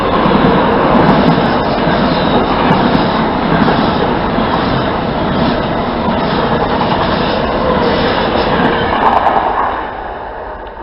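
A Virgin Pendolino class 390 electric train roars through a station close by, a loud continuous rush and rumble that holds steady for about ten seconds before easing off.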